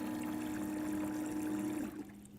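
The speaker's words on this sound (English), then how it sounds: "you can simply push the drain button and Clearview will quickly remove the water from the tank." A DiversiTech Clearview condensate pump draining water from its tank gives a steady low motor hum with trickling water, cutting out near the end.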